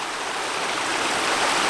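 Steady rushing water drains through a hole broken in ice, pouring and gurgling, loud and close, growing slightly stronger, with no voices.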